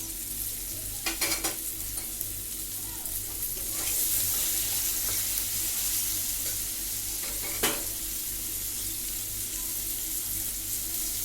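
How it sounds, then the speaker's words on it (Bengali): Chopped onion hits hot oil in a pan for a Bengali lau chingri dish, raising a steady broadband sizzle that swells after a few seconds, with a couple of sharp clinks of a utensil against the pan. "এবারে এতে দেব টুকরো করে রাখা কুচি করা পেঁয়াজ,"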